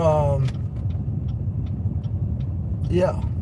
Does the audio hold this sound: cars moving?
yes